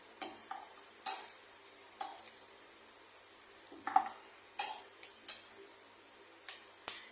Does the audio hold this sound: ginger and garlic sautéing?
yes